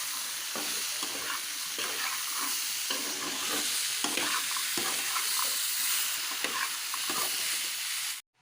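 Salted chickpeas roasting in a pan are stirred with steady scraping strokes over a continuous dry sizzle, close and fairly loud, with regular rhythmic pulses of the stirring and no talk.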